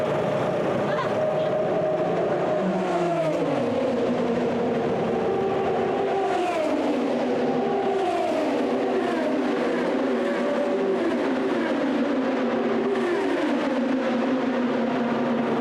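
Race cars roar around the 100th Indianapolis 500, engines droning and shifting pitch as they pass and accelerate amid steady crowd and track noise, with people talking underneath.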